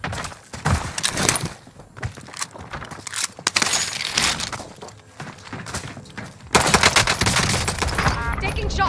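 Rapid bursts of automatic gunfire in Call of Duty Warzone Pacific resurgence, loud and dense with overlapping shots and heavy volleys, a sustained intense barrage building toward the end.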